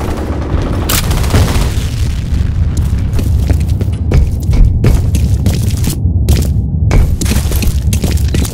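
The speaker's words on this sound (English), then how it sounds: "Grenade out." A video game grenade explodes in a run of loud, booming blasts with sharp crackling bursts, filling the whole stretch with heavy, continuous battle noise.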